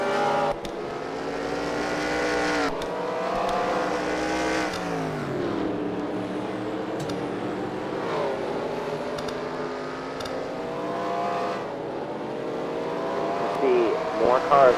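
Race cars circle a track and roll along pit road during a pit cycle in a Wall-racing event, engines droning and shifting pitch as cars pass, steady and fairly loud beneath continuous commentary.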